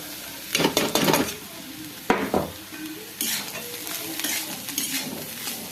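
Pulao with potatoes frying in a pan, a steady sizzle broken by a few loud scraping stirs and a sharp clink of utensil on metal.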